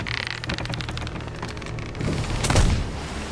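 Cannon fire in Sea of Thieves aimed at a kraken tentacle: rapid clattering shots at first, then a heavier booming blast with a rolling low rumble near the end, no talk.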